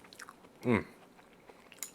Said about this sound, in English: Perfect amount of crunch on the carrot and the broccolini.